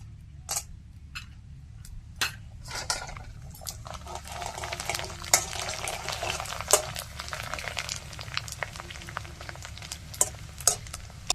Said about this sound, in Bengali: ভেজে নেবো পাঁপড়।